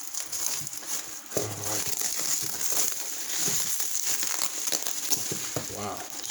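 Gold scrap package being cut open, its plastic packaging crinkling and crackling up close in bursts throughout, with a brief spoken word at the start.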